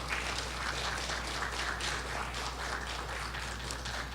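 Audience applause for an economic student society at an awards event, a steady dense wash of many hands clapping at moderate level throughout, with a low constant hum underneath and no talk.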